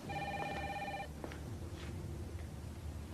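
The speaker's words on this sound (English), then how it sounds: "It's just a phone." A home telephone rings in a quiet house, one electronic ring burst near the start, fairly faint, followed by room quiet and small soft noises.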